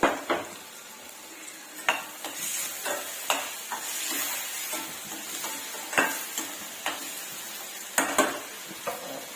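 Salted sliced onions sizzle softly in a pan while a utensil stirs and scrapes against the metal in irregular, close knocks and clinks, with no talking.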